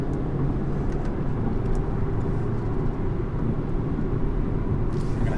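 A 2020 BMW 320d diesel sedan drives hard, its engine and road roar a steady, loud, dense drone heard from inside the cabin with no break.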